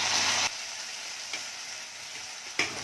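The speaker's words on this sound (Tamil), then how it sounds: "இப்போ நம்ம தக்காளி ஆட் பண்ணிக்கலாம்." Chopped tomatoes go into frying onions for chayote gravy. A loud, bright sizzle quickly settles into a softer, steady frying hiss, with a few light utensil taps and no talking.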